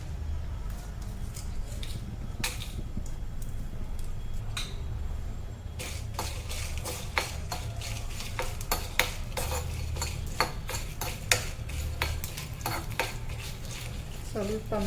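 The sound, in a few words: chili pieces frying in oil in a pan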